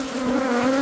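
Outdoor bees swarm around a gazebo, making a steady, close, loud buzzing drone that holds without a break for the whole moment.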